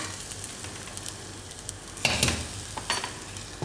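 Tadka tempering for pakoda kadhi, spices sizzling in hot oil, a soft steady crackle that flares into a louder burst of hissing and spitting midway, no voices.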